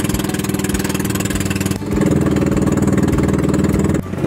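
A boat engine drones loudly and steadily nearby, shifting pitch slightly partway through as it keeps running.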